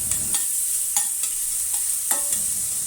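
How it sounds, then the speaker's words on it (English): Ginger garlic paste sautés in hot mustard oil in a pan over low heat, a steady soft sizzle broken by a few light stirring scrapes. "Heat some oil in a pan. Add the ginger garlic paste and saute over low heat until fragrant."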